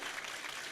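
An audience applauds steadily at a talk event, the clapping an even, dense wash with no clear pauses.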